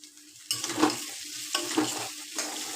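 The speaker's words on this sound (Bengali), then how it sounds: "আমি একটু জিরে ফোড়ন দিয়ে দেবো আর দিয়ে দেবো পেঁয়াজ তো এগুলো একটু ভালো করে ভেজে নেবো" Onions and cumin seeds fry in hot oil in a pan, a steady close sizzle with bursts of louder crackle as they are stirred, the scraping and bubbling rising and falling in a few waves.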